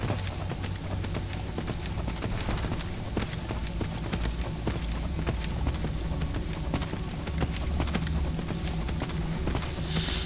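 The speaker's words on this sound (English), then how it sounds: "I'm not used to riding horses in this game." Horse hooves clip-clop in a steady, fast rhythm while riding through The Elder Scrolls V: Skyrim, close and continuous over the game's low ambient background.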